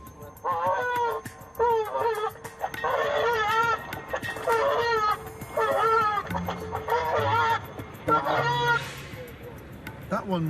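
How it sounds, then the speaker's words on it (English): A recorded goose distress call plays at an airport to disperse birds, a series of loud, harsh honking wails in repeated bursts, with a lower voice talking intermittently underneath. "That one was a very distressed goose."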